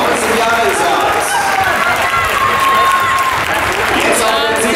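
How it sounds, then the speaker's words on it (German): Crowd of spectators at a running race applauding and cheering a 19-year-old runner from Turkey on the final straight, steady dense clapping and crowd noise throughout with an announcer's voice heard over it. "Applaus für den jungen Türken."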